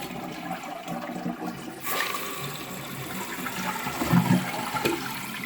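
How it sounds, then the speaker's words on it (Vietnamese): A toilet flushes after its fill valve is replaced with a QuietFILL Platinum repair kit, with a sudden rush of water that swirls on and swells louder toward the end. "xả nước"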